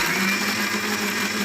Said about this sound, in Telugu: కొన్ని వాటర్ వేసుకొని మిక్సీ పట్టుకుందామండి.